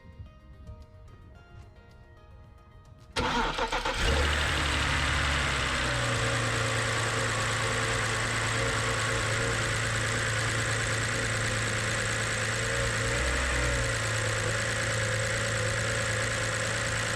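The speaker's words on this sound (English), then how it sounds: "We're just going to start it up and see how it runs." A BMW X3 engine, just back together after a valve cover repair, is silent at first, then cranks and fires about three seconds in and settles into a loud, steady idle that carries on to the end.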